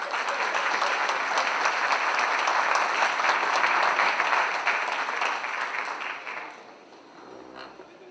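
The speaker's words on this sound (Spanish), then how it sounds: "Fuerte el aplauso para las dos." Strong applause at an education policy congress in Posadas, a loud, even wash of clapping from a large audience that holds steady for about six seconds, then fades out quickly.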